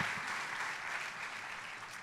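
A church congregation applauds in a continuous, even wash of clapping, moderately distant and fairly soft, with no break over the short span.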